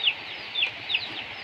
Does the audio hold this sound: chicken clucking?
yes